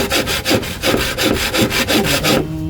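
A hand saw cuts through bamboo in quick, even back-and-forth strokes, loud and close, about six rasping passes that stop abruptly near the end.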